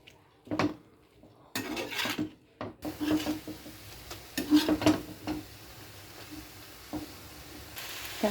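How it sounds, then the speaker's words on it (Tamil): Agathi flower stir-fry with salt and turmeric is stirred in a pan: scraping and clattering strokes at an irregular pace, some sharp knocks, a faint sizzle underneath, close by and with no talking. "உப்பும் மஞ்சப்பொடியும் போட்டு நல்லா கிளறி விடுங்க"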